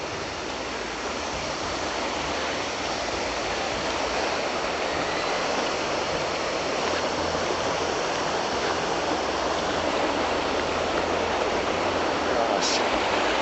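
River flowing beside coffee fields, a steady, loud rushing wash of water that continues unbroken and close throughout.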